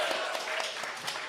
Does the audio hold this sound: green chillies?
no